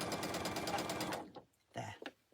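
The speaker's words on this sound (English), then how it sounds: "Take it to the needle and stitch across that seam" A domestic sewing machine stitches across a quilting seam on a candle-trio block, running in a steady rapid mechanical rhythm close by before stopping, followed by brief soft handling and quiet voice sounds.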